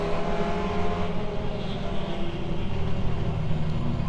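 Super Trucks race around Langley Speedway, loud engines roaring and droning with steady pitch lines and a slight swell as trucks pass. The racing noise is continuous and fairly close, with no voices.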